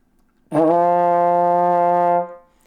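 A single trombone note, F, sounds clearly and steadily for under two seconds, then fades off, with nothing else around it.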